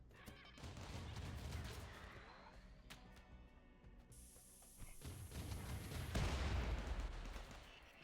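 A small rapid-fire gun shoots in the Rimworld video game, heard as faint, quick bursts of shots mixed with other muffled game noises, fairly quiet throughout.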